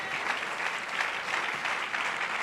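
A church congregation breaks into applause after the Gospel reading, a dense, even clapping from many hands throughout, moderately close and without voices on top.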